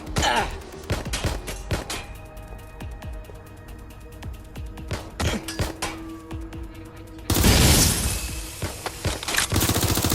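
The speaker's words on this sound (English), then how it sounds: "Suspect's shooting!" Gunfire from a shooting suspect: sharp shots crack out irregularly, some near and loud, then a dense, sustained burst of rapid fire erupts and lingers for the last few seconds.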